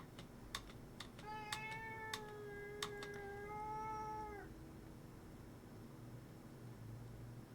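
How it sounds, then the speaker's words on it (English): A house cat meows loudly in a long, drawn-out wail over a low background hum, with a few sharp keyboard clicks scattered through the opening seconds. "You hear a cat? Yep. She's being loud."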